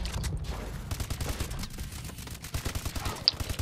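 Gunfire in Call of Duty: Advanced Warfare on the Solar map, with rapid low bursts and scattered shots running throughout, fairly steady in level, plus one sharp bright ping near the end.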